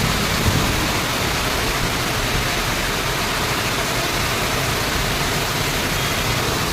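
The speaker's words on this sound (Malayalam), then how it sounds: "നല്ല ഹെവി മഴയും കാറ്റും" Heavy rain pours down in a dense, roaring wash of noise with wind mixed in, loud and unbroken from start to finish, with no voices.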